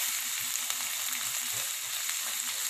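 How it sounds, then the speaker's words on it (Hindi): Tomatoes sizzle and fry in a pan for bean toast, a steady crackling hiss with occasional stirring scrapes, close and moderately quiet, with no speech. "फिर इन सबको सॉटे कर लेंगे।"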